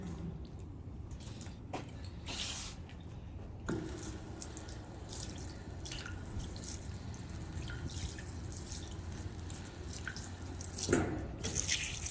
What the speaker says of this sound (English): We'll just give this a bit of a hose off.